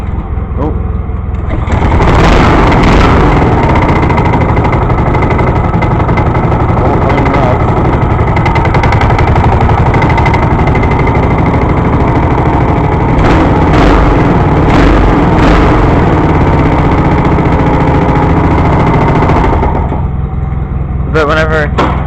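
A cold John Deere 318 style garden tractor mower engine on choke cranks and catches, running loud and steady for most of the stretch before cutting out near the end, with brief bursts of talk mixed in.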